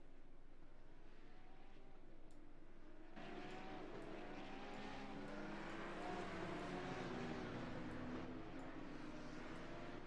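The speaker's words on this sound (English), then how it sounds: "Can everybody hear the cars?" Porsche race cars circulating at Bathurst, heard as a continuous distant engine drone with rising and falling tones as cars pass, faint beneath a broad wash of background noise.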